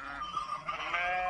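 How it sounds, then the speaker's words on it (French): Sheep and lambs bleat at the fold as a shepherd brings two young ewes to their mother to suckle, several overlapping, wavering cries close by and fairly loud, continuous through the moment with no talk. "le berger va présenter les deux petites brebis à la maman"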